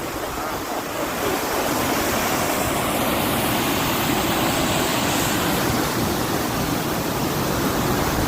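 After heavy rain, water pours over a full dam in a loud, steady rush that never lets up.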